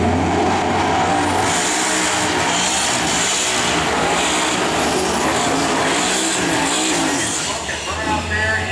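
Dodge Charger drag car doing a burnout at a drag racing event, a loud, sustained engine roar with high-pitched tire screech, continuous and close, a voice talking over it.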